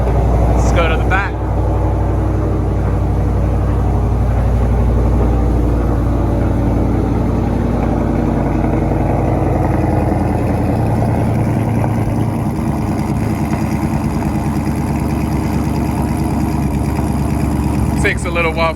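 A Mopar V8 with a loping cam idles loudly and close for a long stretch, its deep uneven rumble running continuously, with a few brief clanks near the start and end.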